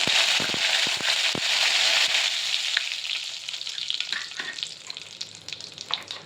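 Asafoetida and curry leaves hit hot oil in a loud, hissing burst of frying with sharp crackles and pops that gradually settle into a quieter sizzle.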